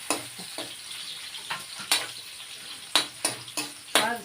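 Garlic, onion and ginger sauté in a pan for chicken liver adobo, with sharp sizzling bursts and stirring scrapes coming in uneven pulses, close and fairly loud, with no talking.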